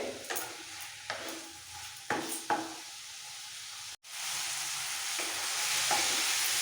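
Tomatoes and onions fry in a pan with a soft sizzle while a utensil stirs and scrapes them in several distinct strokes, followed by a short break and then a steadier, louder hiss; no voices.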